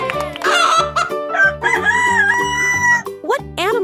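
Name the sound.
rooster crowing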